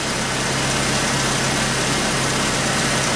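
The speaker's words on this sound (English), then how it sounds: "Sounds better. Still sputters a little bit." A Chevy S10 pickup engine idles with a slight sputter, just after intake cleaning while injectors are being tested, a loud, steady, dense rumble held close throughout with no voices.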